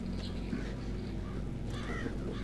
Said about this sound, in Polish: No, ptaszki.